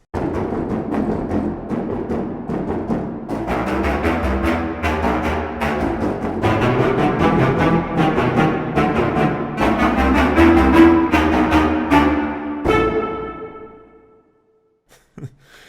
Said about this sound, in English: I'm not quite sure that I've ever heard a woodwind ensemble sound like this.